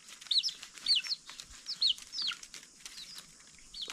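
Chickens on a farm in Côte d'Ivoire chirp and cluck in short, bright bursts as they gather toward the farmer, several calls close together over a quiet background.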